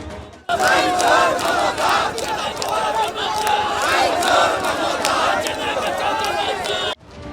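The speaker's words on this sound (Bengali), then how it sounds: "মিছিল থেকে ওঠে মুহুর্মুহু স্লোগান" Loud, dense crowd of BJP workers and supporters chanting slogans in unison at a protest march carrying symbolic handcuffs, a continuous roar of many voices, close and sustained until an abrupt cut.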